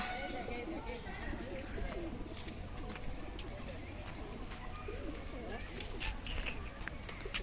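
Pigeons coo softly and repeatedly in the Bethuadahari wildlife sanctuary, faint against a busy outdoor background, while people talk nearby.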